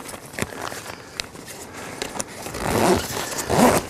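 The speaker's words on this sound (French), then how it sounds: "la fermeture éclair." A zipper on a wildlife-photography hide tent is pulled closed in a few soft, scratchy drags. Light fabric rustling and handling noises surround the zipper, and the drags grow louder toward the end.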